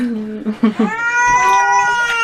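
A cat yowls during a flea bath, starting with short broken cries that turn into a long, loud, drawn-out wail.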